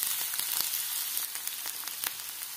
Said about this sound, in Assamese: গাজৰ, কবি আৰু পিঁয়াজ গোটেইখিনি অকণমান 10-12 ছেকেণ্ডমানৰ কাৰণে ভাজি